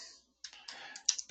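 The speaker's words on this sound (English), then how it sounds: "literally you just start typing in" Keys on a computer keyboard clatter in a few quick, close clicks after a brief silence, light and irregular, with no voices present.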